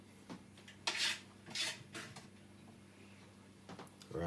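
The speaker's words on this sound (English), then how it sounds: "I'm going to grate this piece of ginger right here." A piece of ginger is scraped across a grater in a few short, quiet rasping strokes with pauses between them, and nobody speaks.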